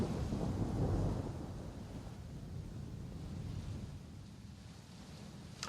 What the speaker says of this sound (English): a thunderstorm hits for the whole duration of the session